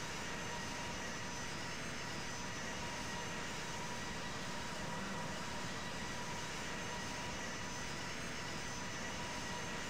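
Airliner engines in Infinite Flight, a flight simulator game, spool up and roar as the aircraft takes off from runway 19 in Australia; a steady, loud broadband rumble continues unbroken, with no talk.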